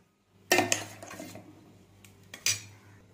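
A spoon mixing kalonji and fenugreek into curd in a bowl gives two distinct clinking knocks against the dish, with faint scraping in between; quiet and close, no talking.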